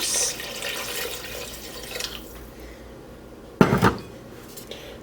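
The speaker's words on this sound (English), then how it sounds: "now we want to add our 4 cups of chicken broth" Four cups of chicken broth are poured into a soup pot with a steady liquid splash, followed by a sharp clatter of the container against the pot.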